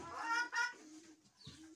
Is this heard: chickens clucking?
yes